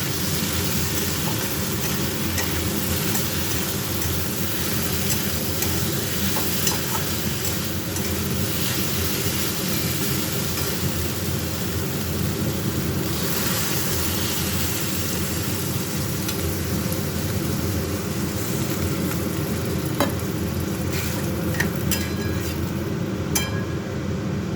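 Mustard and poppy seed paste cooks in a pan for a dheros posto, a steady loud sizzle with a rumbling low hum and faint clinks now and then, with no speech.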